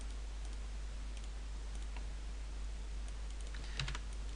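Keys tapped on a computer keyboard while a password is typed, a run of light, close clicks at uneven spacing over a constant low hum, with no talk.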